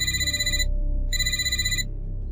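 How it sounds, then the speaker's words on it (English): Mobile phone ringtone rings in two bursts with a pause between them, bright and fairly loud over a low background hum. "That's when my phone rang again."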